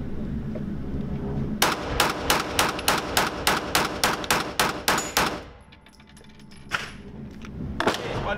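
Rapid string of about a dozen 9mm shots from a Smith & Wesson M&P9 M2.0 pistol, loud, sharp and evenly spaced, then a short pause before two more isolated shots near the end.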